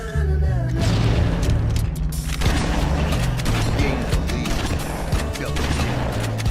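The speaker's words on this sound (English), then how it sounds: "Now I'm just getting kills just by sitting here shooting at the floor." Constant gunfire in the Halo video game as a player shoots at the floor, heard as a dense, loud run of blasts over a low, rhythmic game soundtrack. A voice talks faintly underneath.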